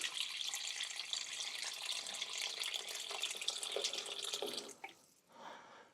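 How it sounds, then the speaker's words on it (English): Water, about 2-3 cups, streams steadily from a tap or jug into a cooking pot of stew for several seconds, then cuts off, followed by a brief trickle. "I'm going to add in an additional, it's about 2-3 cups of water."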